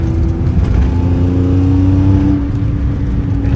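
Inside a stripped-out Citroen C1 on a track, the engine drones loud and steady as the car accelerates, a rising hum with road and cabin roar filling the space, with no one talking.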